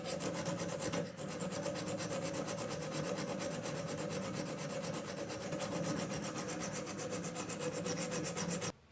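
Steady hand-filing strokes on a hammer being worked flat and square, a continuous fast rasping scrape lasting about nine seconds, close and unaccompanied by talk.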